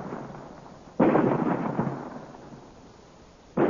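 A radio-drama effect of rock being blasted apart: a sudden loud rumbling burst that decays over a couple of seconds, then a second blast begins at the end.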